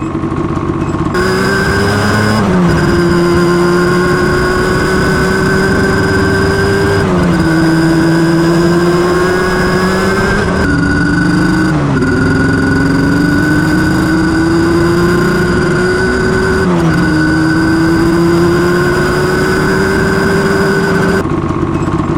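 Yamaha Banshee ATV engine running on an aftermarket $35 CDI: a loud, close, steady engine drone whose pitch rises and falls slightly in several smooth revs, with no talk over it.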